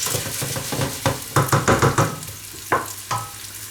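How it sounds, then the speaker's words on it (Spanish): Onions and garlic fry in a pan while being stirred, with a steady close sizzle broken by a quick run of rhythmic scraping strokes and a couple of later clinks. "La cebolla y los ajos están a medio hacer y ahora incorporamos los pimientos."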